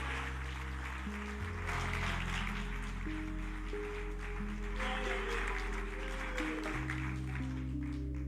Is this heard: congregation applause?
yes